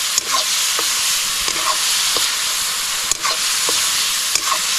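Prawns fry in hot oil with a loud, continuous hissing sizzle, cut by a few sharp clicks and taps of stirring at intervals, cooked outdoors on a remote island with no talk.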